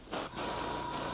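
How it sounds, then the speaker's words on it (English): Aerosol spray paint hissing onto the edge of a business card held as a mask while painting a miniature base, a steady close broadband hiss lasting about a second with a short break near the start. "I'm going to spray actually onto the card here"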